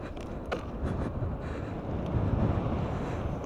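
Heavy wind buffeting roars into the microphone while a rider speeds along on a G4 Max electric scooter with a 60-volt battery. The rush stays loud and continuous, and no voices can be heard.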